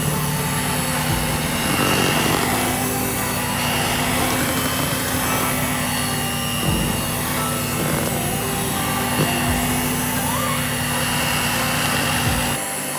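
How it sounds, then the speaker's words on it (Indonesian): An electric hand mixer runs at high speed, beating palm sugar cookie dough with cornstarch, giving a steady, loud, unbroken motor whir throughout. "Lalu kita mixer dengan kecepatan tinggi sampai adonannya tercampur."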